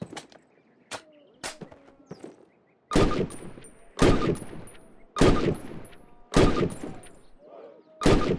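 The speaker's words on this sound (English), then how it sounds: "Approach the fence and fire 6 rounds at your target." Rifle gunfire at a target on a training range in Call of Duty: loud, sharp shots, a few lighter single cracks first, then five heavy booming shots spaced about a second apart, each with a short echoing tail.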